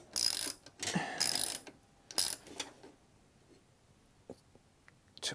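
Wrench tightening a terminal nut on a LiFePO4 battery, a few short bursts of ratcheting clicks near the mic, then quieter faint clicks and small taps.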